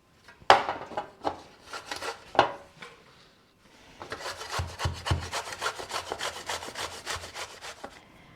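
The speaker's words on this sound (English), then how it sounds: "And what I've decided is, I think I'm going to grate it." A courgette is grated by hand on a kitchen grater: a few separate scrapes at first, then after a short pause a fast run of rhythmic rasping strokes, close and crisp.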